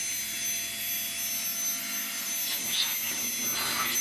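Portable air pump inflator for inflatables, switched to its turbo setting, runs as a steady, loud high-pitched whoosh of rushing air with a motor whine, continuous throughout.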